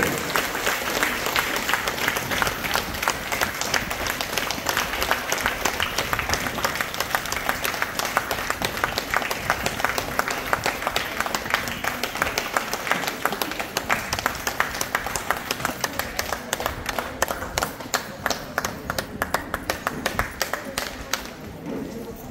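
A crowd at an office opening ceremony claps hard and continuously for over twenty seconds, a dense, even roar of hands that starts to break into separate claps near the end.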